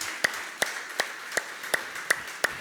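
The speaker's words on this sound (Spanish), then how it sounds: "por favor, apláudele fuerte" During a church sermon, someone claps slowly and evenly, about seven single claps at a steady rhythm, fairly close and with no talking.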